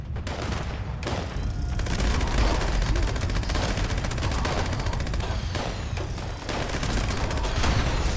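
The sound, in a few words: gunfire in a video game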